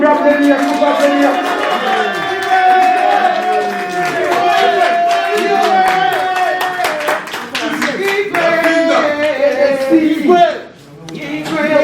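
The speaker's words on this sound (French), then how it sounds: "Est-ce qu'on peut applaudir?" Crowd clapping and applauding at a Congolese music concert at the Zénith in Paris, rhythmic hand claps ringing out under loud live music and an amplified voice on stage.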